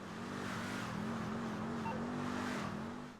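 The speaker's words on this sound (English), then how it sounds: "jump in and listen to how the vehicle sounds" Tahoma Coupe muscle car idling in GTA 5 Online, a steady low engine drone with a slight wavering burble, continuous and moderately quiet with no talk.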